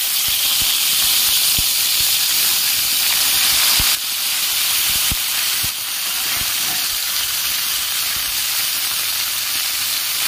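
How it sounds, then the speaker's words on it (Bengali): Ridge gourd slices dropped into a pan of frying potatoes give a steady, loud sizzle and hiss with a few faint clinks of utensils, no talking. "আলু ভালো করে ভাজা হয়ে গেছে, এবার আমি ঝিঙে দিয়ে দিচ্ছি।"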